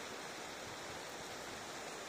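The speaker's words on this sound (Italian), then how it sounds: "Qui davanti a me scorre un bellissimo fiume, il fiume Pioverna, che si è riempito di acqua." The Pioverna river, swollen with water after a spell of wintry weather, rushes by with a steady, even broadband roar of flowing water, constant throughout with no talk.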